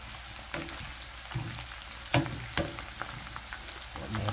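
Anchovies (dilis) crackle and sizzle steadily in hot cooking oil, with a few louder pops and spatters breaking through the constant frying hiss.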